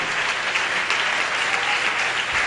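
A church congregation applauding during a sermon, dense and sustained clapping from many people at moderate loudness throughout.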